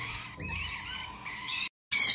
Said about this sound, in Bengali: দর্শক এখানে কিন্তু এক জোড়া লরি পাখি দেখতে পাচ্ছেন